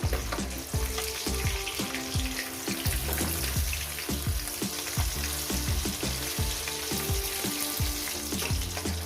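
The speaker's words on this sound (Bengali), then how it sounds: "এই করে আমি মাছগুলো একেবারে ভেজে নিয়ে ফিরছি মাছগুলো ভাজা হয়ে গেছে" Pabda fish fry in hot oil with a loud, busy crackling sizzle that continues unbroken, dotted with rapid pops and spatters; no voices.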